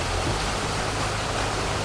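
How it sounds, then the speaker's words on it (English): Backyard waterfall pouring from a double koi pond down into a swimming pool, a loud, steady, broad rushing wash with no pauses and no voices. "The double koi pond into another waterfall that then, oh, look how cool this is. Wow. Down into the pool."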